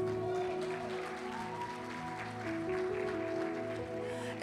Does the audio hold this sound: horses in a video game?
no